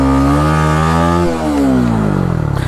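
A motorcycle rides along the sea beach at Kuakata, its engine droning loud and close with steady harmonics that dip briefly, then rise again as it keeps moving.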